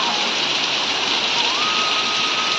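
Heavy rain falls over a village, a dense, steady hiss of downpour that fills the whole clip at even loudness, with a faint thin tone drifting through in the background.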